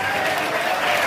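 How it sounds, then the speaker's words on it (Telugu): A church congregation claps together during a Sunday service, producing a thick, continuous roar of applause from many hands, even in level and close throughout. "సంతోషంతో చప్పట్లు"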